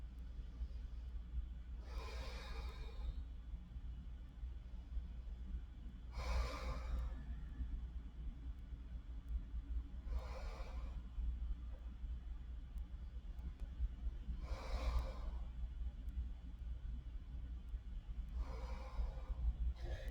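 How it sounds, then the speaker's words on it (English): Slow breathing during a beginner chair yoga session: about five soft, evenly spaced breaths, roughly every four seconds, sound faint over a low steady background rumble, with no talking. "Let's take 5 breaths together."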